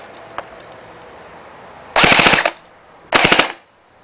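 A G36C airsoft gun fires on full auto in two short, loud, rapid bursts of closely spaced mechanical cracks, heard near and separated by about a second of quiet.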